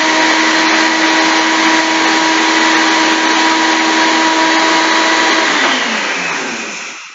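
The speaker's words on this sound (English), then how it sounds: "so now I blend these up, like I said. Grind them, blend, grind." Coffee beans ground in a blender for cold brew, a loud steady whirring motor drone with gritty grinding that holds for several seconds, then winds down as the blender stops.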